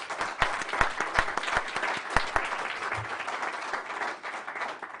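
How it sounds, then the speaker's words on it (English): A conference audience at an engineering and public policy event gives Catherine a round of applause, brisk clapping with a few sharp, close claps standing out early, then fading slightly toward the end. "So a great round of applause for Catherine."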